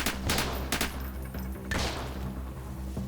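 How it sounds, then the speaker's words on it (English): Explosive bangs and gunfire in the Freeman Guerrilla Warfare video game, with a few sharp loud blasts close together at the start and another burst shortly after, over a steady low rumble. "did they just throw a flashbang grenade at me or something?"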